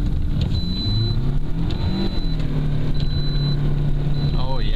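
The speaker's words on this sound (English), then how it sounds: "I'm gonna do a reverse donut." A car engine drones close and steadily while the car does a reverse donut, and people talk and call out over it throughout.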